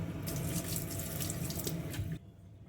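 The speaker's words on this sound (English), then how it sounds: "Now adding the hot water again." Hot water runs steadily from a tap into a container of thawing frozen rats with a broad splashing rush, then stops abruptly near the end.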